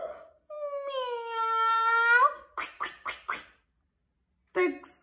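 A dog's howl used as a sound effect in a read-aloud story rises as one long, clear wavering tone, followed by a few short yelping bursts and a final brief cry.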